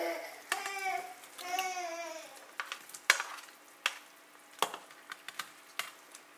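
Onions frying in a pot with pork for sinigang, a brief muffled voice-like sound at first, then gentle sizzling under a series of sharp spoon clacks and scrapes against the pot, close and fairly quiet.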